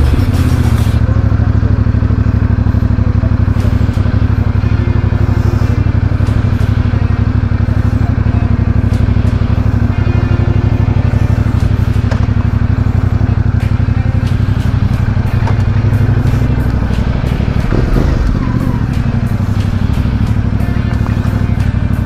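A CF Moto 450MT motorcycle rides along steadily, its engine a continuous loud drone with wind rush and a slight swell in pitch late in the run.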